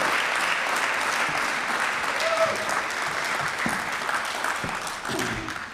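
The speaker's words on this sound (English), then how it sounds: "how about a round of applause for all the candidates that we heard from today?" Steady, fairly loud applause from a caucus crowd for the candidates at a Burlington Democrats town meeting, sustained throughout with a faint murmur of voices beneath.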